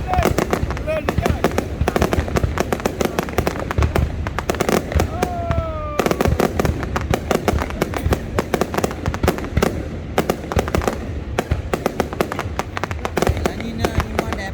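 Lunar New Year fireworks for the Year of the Cat, with dense, continuous crackling bursts and booms and a couple of rising whistles, loud and close throughout, while people talk underneath.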